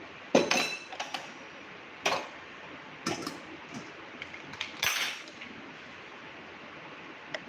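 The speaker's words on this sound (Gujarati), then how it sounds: "એક આપણે મિક્સર જાર લેશું." A mixer grinder jar is picked up and set down in a home kitchen, giving several sharp, close clinks and knocks of metal and hard plastic, separated by short pauses in a quiet room.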